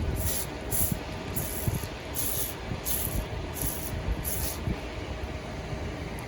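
Seven short hissing sprays from a spray bottle onto a small pumpkin plant come in a quick regular rhythm, close up, over a rough, noisy outdoor background.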